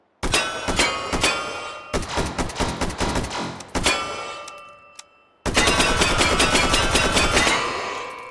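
An AK-01 rifle chambered in 5.56x45 NATO fires several loud, close bursts of rapid shots with short gaps between them, ending in one long sustained burst.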